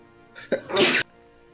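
A single sharp sneeze, a short intake followed by a loud explosive burst, close by and over in about a second.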